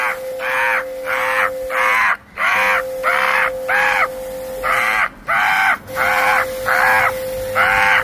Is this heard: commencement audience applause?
no